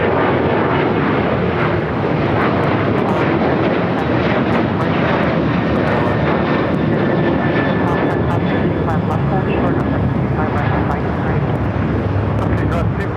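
An airliner takes off from runway 25 left at Los Angeles International Airport, its engine roar a loud, steady broadband rumble filling the whole span, with air traffic control radio chatter running over it.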